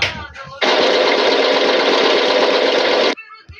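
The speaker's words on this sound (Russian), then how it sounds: "Трактор." A tractor engine chugs loud and close in a rapid, even knocking rhythm for about two and a half seconds, framed by a brief spoken word just before it and a short sound after.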